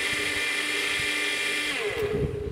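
A repaired Vodoley BTsPE 05-50U water pump motor runs steadily with a loud, high electric whine, its pitch sliding as it changes speed near the end.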